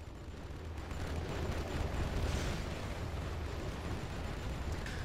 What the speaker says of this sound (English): Artillery does take out that war factory.